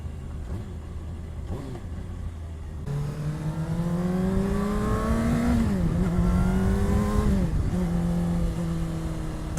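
A 2017 Honda CBR600RR inline-four idles low, then revs up and rises in pitch with smooth harmonic sweeps, dips briefly and climbs again, loud and close, with no talk.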